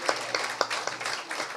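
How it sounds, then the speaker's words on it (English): Audience clapping at a book launch event, a brief scattered patter of hands that sounds thin and moderately close, with a hint of background voices. "Miss Vahida Rahman, can we have a huge round of applause for everyone?"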